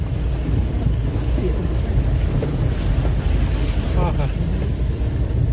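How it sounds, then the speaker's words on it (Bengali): A car fords a small water crossing where a waterfall runs through a dark jungle on a Lamahatta sightseeing drive, giving a steady, loud, close rush of water and engine rumble with wind buffeting the microphone and faint voices underneath. "ছোট একটা ওয়াটার ক্রসিং।"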